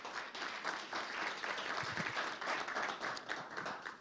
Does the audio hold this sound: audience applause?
yes